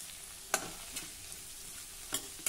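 Ivy gourd is mixed with kharda and salt in a pan, where a soft, steady sizzle is broken by a few distinct spoon scrapes and taps at close range.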